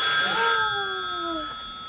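A telephone rings during an interview in Ketchikan, Alaska, giving a bright steady electronic ring that fades over two seconds.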